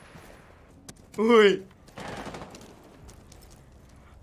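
A short, loud burst of rapid gunfire in Rainbow Six Siege lasts under half a second, followed by quieter game sounds and a brief spoken exclamation.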